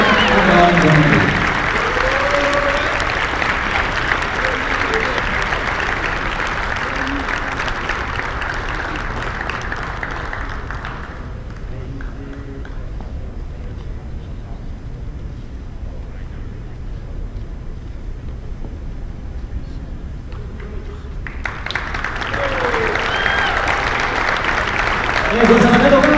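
A basketball arena crowd applauds a senior player at a college game, with a loud sustained roar of clapping that drops away mid-stretch and swells up again near the end.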